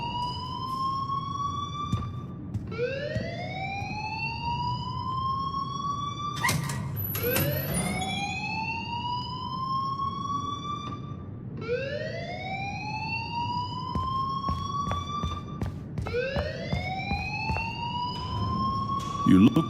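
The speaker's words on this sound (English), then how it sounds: "please turn off that alarm since that's your job" Electronic alarm in the Life is Strange video game, looping in repeated rising sweeps that climb and sustain, loud and continuous, with people talking beneath it.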